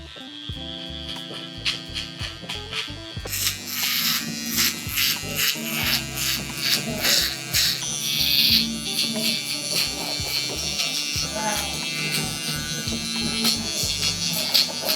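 An electric shaver buzzes steadily through a mid fade haircut, cutting hair in short repeated passes with an ongoing hum and little pause.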